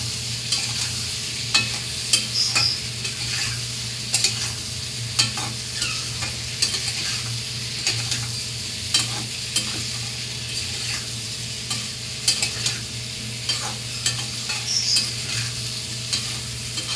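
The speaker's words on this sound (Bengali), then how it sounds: "হাফ সেদ্ধ করে ওলগুলো রেখেছিলাম, সেগুলো এর মধ্যে দিয়ে দেবো। দিয়ে আমি কষবো।" Half-boiled elephant foot yam frying with spices in a pan, a steady close sizzle with repeated scraping and stirring knocks throughout, no talking.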